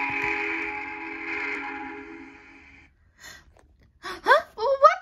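A steam train whistle sounds in an animated audio story: a long sustained tonal whistle for about three seconds, then a short pause, with startled voiced gasps and exclamations after it.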